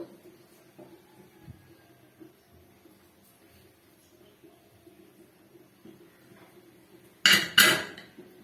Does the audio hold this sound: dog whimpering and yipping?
no